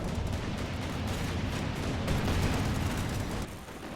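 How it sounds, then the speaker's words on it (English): Rocket barrage from Calliope launchers in a Company of Heroes 2 battle, a dense continuous roar of blasts and rumbling explosions that holds steady throughout, with no talking. "More Calliope rockets going down."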